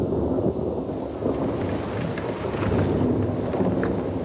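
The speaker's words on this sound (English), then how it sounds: "It started to rain." Heavy rain pours steadily with a deep rumble of thunder rolling underneath, a continuous dense wash of sound with no voices.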